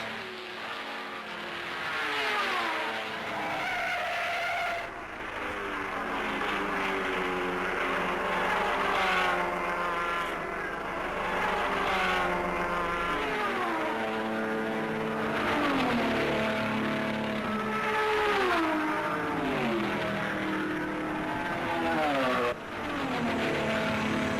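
Race cars at the Le Mans 24-hour endurance race in France roar past for over twenty seconds, overlapping engines revving and shifting up and down in pitch, loud and sustained, with no talk.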